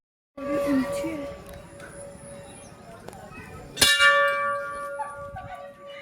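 A high-hung temple bell at Sadashiv temple in Una, Himachal, rings with a long sustained tone, then a sharp second strike rings out loudly, with voices and crowd murmur in the background.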